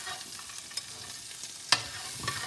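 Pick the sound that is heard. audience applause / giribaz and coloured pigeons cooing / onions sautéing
onions sautéing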